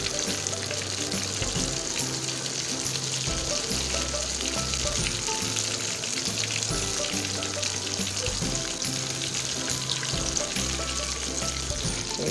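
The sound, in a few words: mutton chops frying in oil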